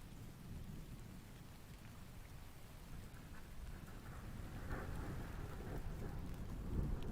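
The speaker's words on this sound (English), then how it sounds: "Is that thunder? Is the thunder a playing sound?" Thunderstorm ambience plays as a steady background bed, with continuous heavy rain on surfaces and low rumbling thunder that swells slightly louder toward the end; no one speaks over it.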